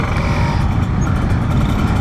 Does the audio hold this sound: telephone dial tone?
no